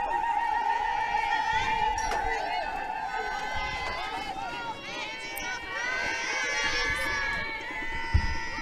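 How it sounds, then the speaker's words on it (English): At a softball game, a crowd and players in the dugout shout and jeer in bursts of overlapping voices, with a commentator talking over the noise. "Some spirited jeers from the dugout and from the crowd"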